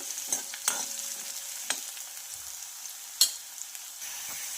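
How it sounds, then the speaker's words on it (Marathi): Garlic fries in a pan until golden, with a soft, faint sizzle and scattered clinks of a spoon on the pan; no talking. "गोल्डन रंगावर आपल्याला हे लसूण फ्राय करायचं आहे"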